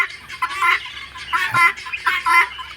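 Guinea fowl chicks cheep and cluck in overlapping bursts, several calling close by with short gaps between flurries.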